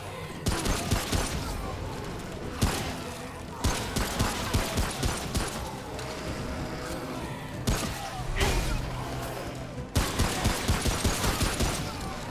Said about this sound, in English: I think I'm going to stay here and use the gun